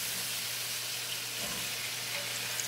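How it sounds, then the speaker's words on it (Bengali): A faint, even sizzle of potato and cauliflower frying in a pan, with a low steady hum underneath and no talking. "আলুটাকে লবণ দিয়ে একটু ভেজে নিতে হবে"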